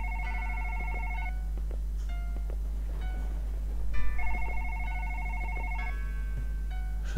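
A telephone rings in a late-night video game, two bursts of electronic trilling ring separated by a pause, over a low steady hum and faint clicks.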